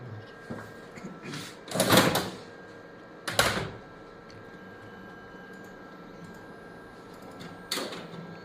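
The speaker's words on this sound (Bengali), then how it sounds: "প্রিন্ট হচ্ছে।" A printer in a dental clinic prints dental X-ray images, giving a few short mechanical whirring bursts separated by quiet stretches of faint room hum.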